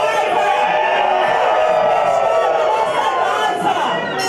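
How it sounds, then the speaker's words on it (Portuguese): A protesting crowd shouts and chants during a tumultuous municipal council session, a dense, loud, continuous roar of many voices close by. "Foi uma sessão tumultuada. Protestos, palavras de ordem."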